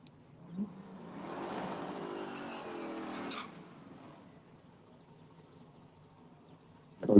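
Chevrolet Camaro race cars, including a second-generation Camaro, run on a circuit, a broad engine roar that builds, holds for a couple of seconds and then fades, followed by a quieter low rumble and a sharp noise at the end.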